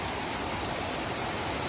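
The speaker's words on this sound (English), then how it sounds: "we're just going to try and wait out some of this rain for a little bit" Heavy rain pours steadily in Kaohsiung, Taiwan, a dense, uniform roaring hiss of drops striking surfaces close by, with no voices.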